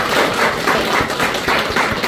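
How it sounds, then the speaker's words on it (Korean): A church congregation applauding during a Palm Sunday morning service: a dense, even wash of many hands clapping together, loud and sustained for a couple of seconds. "우리 한번 박수 한번"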